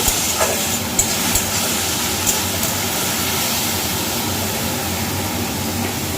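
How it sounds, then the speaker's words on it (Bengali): Food frying steadily in a pan on a home kitchen stove, a constant broadband sizzle with a few small pops and clicks near the start, no talking. "ভাজা ভাজা করে নেব।"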